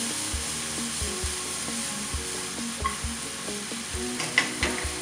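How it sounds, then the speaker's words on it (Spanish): Onion searing and frying in a pan, a steady sizzle running throughout with repeated stirring scrapes and light knocks of a utensil, close and moderately loud, no voices. "Vamos a incorporar la cebolla. Vamos a sellarla bien,"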